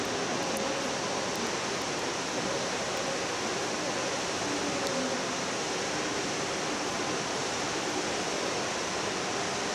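A constant, dense rush of Fukuroda Falls in autumn, a steady waterfall roaring evenly throughout with no pauses or voices.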